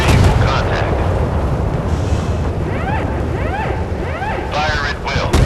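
Naval gunfire aboard a warship in the video game Force of Warships, heavy booming and rumbling battle noise that runs throughout, loud and continuous, with brief whistling whines of shells mixed in.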